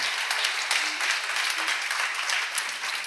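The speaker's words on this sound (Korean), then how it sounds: "박수로 하세요" A Korean church seminar congregation applauds during a sermon, a continuous wash of many hands clapping at moderate distance with sharper individual claps standing out.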